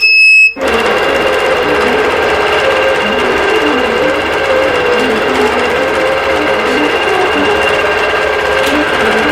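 A quilting machine sews a quilt design row by row, left to right, producing a loud, steady mechanical whir with a rapid stitching rhythm that runs continuously after a brief start-up.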